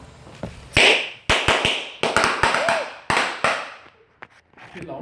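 Firework blasts go off outdoors, a rapid run of sharp loud cracks with ringing decay, several close together, then quieter pops toward the end.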